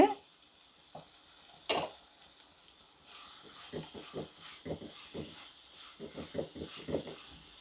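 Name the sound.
frying coriander powder in a pan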